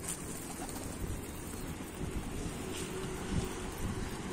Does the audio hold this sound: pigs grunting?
no